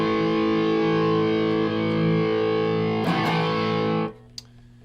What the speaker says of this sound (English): it sounds cool when you have some distortion going on.